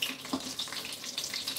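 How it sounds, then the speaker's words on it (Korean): Italian arancini rice balls fry in hot oil, giving a close, steady crackling sizzle with small popping bursts and no talking. "이렇게 튀김이 아주 맛있게 튀겨졌어요."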